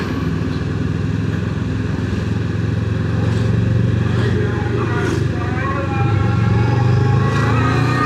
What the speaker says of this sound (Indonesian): Masih berkutat di kemacetan.